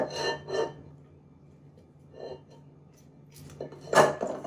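Spatula scraping down a bowl of mascarpone lemon mixture, a few short scrapes and clinks against the bowl with quiet gaps between them, close and fairly soft.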